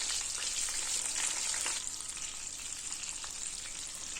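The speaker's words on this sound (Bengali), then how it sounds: "এরপর আঁচটাকে মিডিয়ামে রেখে সমস্ত বেগুনগুলিকে আমি এর মধ্যে দিয়ে দিচ্ছি।" Brinjal pieces fry in mustard oil over medium heat, a bright steady sizzle with crackling spatters, close and fairly soft, gradually easing slightly, no voices.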